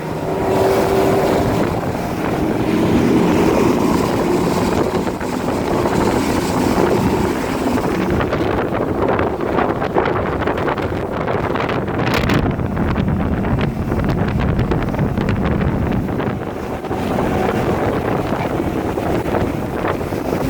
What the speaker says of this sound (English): it's very smooth, quiet, everything you could expect from a Verado, and it's got the power